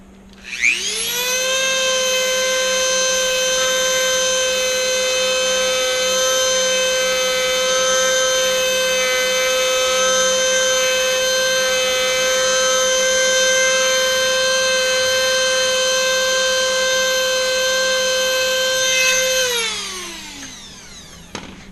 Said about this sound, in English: I'm going to go ahead and use the Dremel. So be prepared for noise.